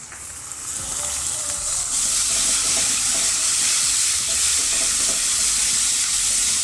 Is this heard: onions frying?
yes